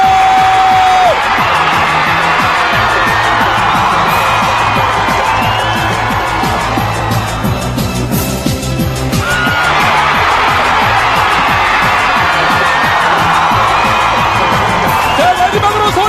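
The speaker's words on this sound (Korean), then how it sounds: "다시 한번 함성 소리 부탁드립니다." A large rally of nursing students calling for a nursing law shouts and cheers loudly and continuously, with whoops and screams rising over the roar, briefly easing midway before surging again.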